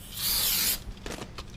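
Brake cleaner hisses from an aerosol can onto a new brake rotor for a Ford Expedition, one sharp spray burst lasting under a second, close and fairly loud, followed by a few soft rubbing sounds.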